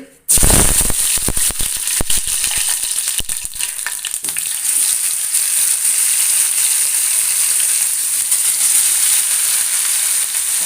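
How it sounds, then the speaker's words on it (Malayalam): Fish frying in hot oil in a home kitchen, a loud, steady, dense sizzle with crackling pops that starts abruptly and holds close and continuous throughout. "നമുക്ക് ആ മീനും കൂടി വറുത്തെടുക്കാം"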